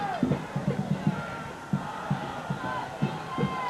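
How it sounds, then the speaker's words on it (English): Crowd cheering and shouting at a 1994 high school football game between SJR and Nutley, with the band rallying fans on the Nutley side; bursts of rhythmic shouts and chanting repeat over a steady roar. "As the band tries to rally up the crowd over on the Nutley side."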